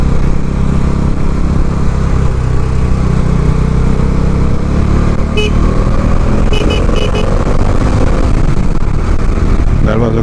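Vehicle overtaking a bus on a winding hill road near Kodaikanal: loud, continuous engine and road noise with a rising engine note, a few brief horn toots, and a low voice underneath.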